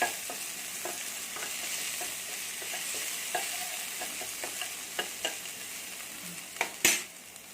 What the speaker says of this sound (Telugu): అల్లం వెల్లుల్లి పచ్చివాసన పోయే వరకు ఫ్రై చేయండి